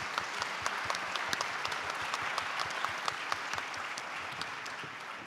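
An audience at a badminton members' forum session on inclusive badminton gives a round of applause, steady sustained clapping of a crowd at even loudness throughout, with no voices over it.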